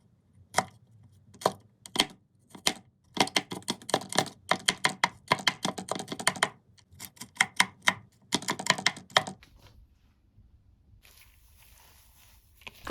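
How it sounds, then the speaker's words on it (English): A knife chops fresh coriander on a board for chicken chapli kebabs, rapid uneven thuds in quick flurries with short gaps, close and crisp, ending in faint background hiss. "this is me chopping coriander and making yummy kebabs"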